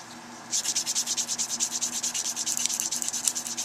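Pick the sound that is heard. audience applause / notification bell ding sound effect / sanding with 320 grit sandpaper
sanding with 320 grit sandpaper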